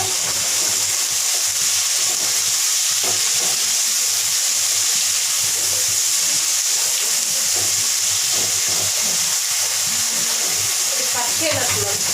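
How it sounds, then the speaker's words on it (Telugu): A pan of food fries in oil after a spoonful of salt goes in, a loud, constant sizzling hiss that fills the whole stretch close up, with faint scraping and a voice murmuring underneath. "ఇప్పుడు బాగా ఫ్రై అవుతాయి అన్నమాట"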